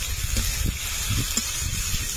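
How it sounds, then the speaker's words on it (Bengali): Ginger and garlic paste with tomato puree frying in a pan while being stirred, a soft steady hiss and sizzle broken by low scraping knocks of the spoon, close and without talk. "আদা রসুন দিয়ে কিছুক্ষণ নেড়ে নেব।"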